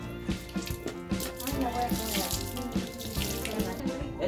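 Lukewarm water runs steadily from a tap while a dog is washed, a continuous splashing flow over a mildly rhythmic background.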